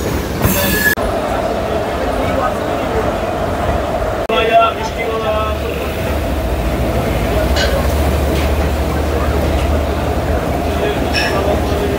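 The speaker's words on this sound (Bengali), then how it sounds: "1টা বেজে 15 মিনিটেই শিয়ালদা স্টেশন থেকে আমাদের এই ট্রেন ডিপার্চার নিচ্ছে প্ল্যাটফর্ম নাম্বার 6 থেকে" A local train pulls out of Sealdah station from platform 6, with a steady low rumble of the running carriages, a brief high wheel squeal at the start and occasional clanks over continuous crowd noise and talk.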